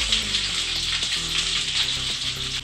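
Chopped garlic hitting hot oil already tempered with cumin and bay leaves, a bright continuous sizzle and crackle that stays loud and even close up, with faint clinks in the background.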